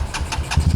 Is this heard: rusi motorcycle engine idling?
yes